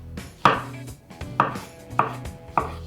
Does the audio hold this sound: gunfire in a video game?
no